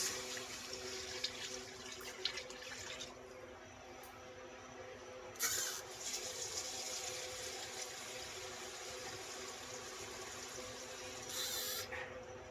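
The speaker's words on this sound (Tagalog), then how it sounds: "Ayan, maglagay na po tayo ng tubig. Ito na yung tubig." Water runs steadily into a cooking pot of chicken tinola for several seconds, with a few brief clinks and splashes partway through, fairly close and continuous.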